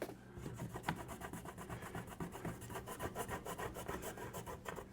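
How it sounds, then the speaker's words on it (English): A rag wet with rubbing alcohol scrubs sticky residue off an RV entry door, making a rapid back-and-forth rasping rub in a steady rhythm, close by and with no talking. "I'm going to use some rubbing alcohol to try to get some of the more stubborn stickiness off the top."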